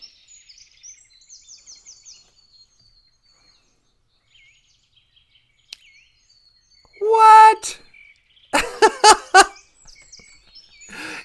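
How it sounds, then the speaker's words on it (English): Birds chirp outdoors in quick, high, repeated calls, faint and somewhat distant at first. Then a person speaks briefly and bursts of laughter come in, with a few faint chirps continuing at the end. "Hello, birds."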